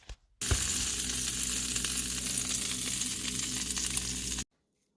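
Bread slices toasting in vegan butter in a pan on the stove, a steady, even sizzle that starts abruptly and holds at a constant level for about four seconds before cutting off.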